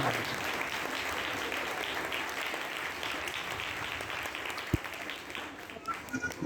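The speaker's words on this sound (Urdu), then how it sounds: "تو زوردار تالیاں۔" Loud, sustained applause fills a church feast celebration for Saint Anthony of Padua, a crowd clapping steadily throughout with a voice faintly audible beneath it.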